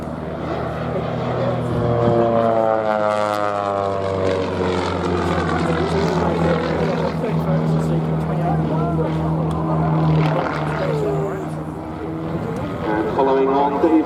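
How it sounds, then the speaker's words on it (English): A Pitts S-1D aerobatic biplane flies a solo display at the Duxford airshow, its propeller engine droning steadily and shifting in pitch as it climbs and turns, loud throughout with faint talk underneath. "This is Richard showing us a solo demonstration here of the Pitz's aerobatic capabilities"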